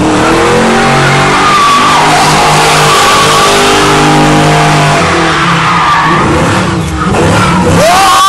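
Car spinning donuts in a neighborhood street, with loud continuous tire skidding and squealing over a revving engine, sustained throughout and close.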